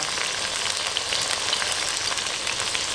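Tarka masala frying in a pan, a constant dense hiss and crackle of sizzling oil, close and steady for the whole stretch without speech.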